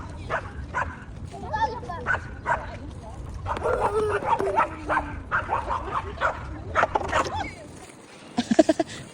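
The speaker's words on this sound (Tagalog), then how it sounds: "Nagwawala yung aso doon, may laro." A dog goes wild outside in Moscow, barking at a car in a stretch of rough, repeated barks and yips at middle distance, with people talking over it and a tight burst of barks near the end.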